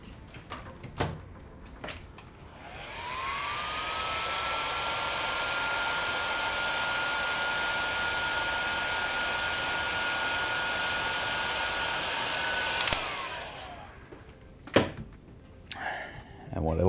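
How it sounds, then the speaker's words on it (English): A heat gun whirs up and blows steadily for about ten seconds while shrinking heat shrink tubing with heat-activated glue on an FDL-3 blaster build, then winds down with a pitch drop; a few clicks and handling noises come before and after. "And now we can heat this with a heat gun."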